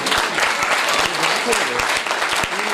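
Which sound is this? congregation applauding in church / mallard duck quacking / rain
congregation applauding in church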